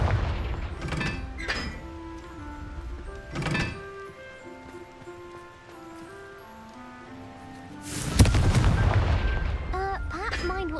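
A Confringo fire blast spell explodes in Hogwarts Legacy, a few sharp booming blasts early on followed by a louder, sustained burst near the end, set over a tonal musical background.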